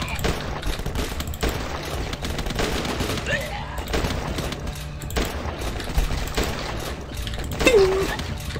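Rapid, sustained volleys of hunting-rifle fire in the zombie-defence game The Last Stand 2, loud overlapping shots packed tightly together with no pauses.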